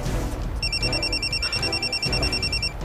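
In a scene from an Indonesian TV film, a telephone rings with a rapid electronic trilling pulse lasting about two seconds, clear and moderately loud over a low background hum.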